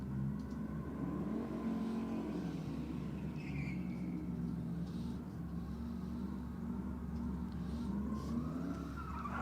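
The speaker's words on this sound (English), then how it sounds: "Puts this thing on the burnout, puts it on the burnout pad," A 4x4 on the burnout pad at Sydney Dragway rumbles and revs, its engine note rising and falling over a steady roar with tyre screech, heard from some distance at moderate level.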